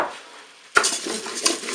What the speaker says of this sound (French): Je vais maintenant ajouter mon riz.